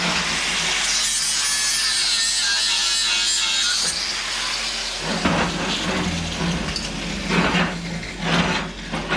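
Angle grinder working metal during welding fabrication, a loud steady high-pitched grinding whine for about four seconds, then rougher intermittent grinding and scraping bursts close by.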